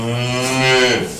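A cow moos as a radio sound effect in one loud, sustained low moo that falls away at the end, with no talk over it.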